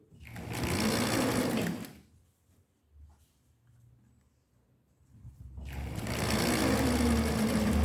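Sewing machine stitching fabric for a bag holder, two loud close bursts of rapid needle chatter separated by a quiet pause while the fabric is adjusted.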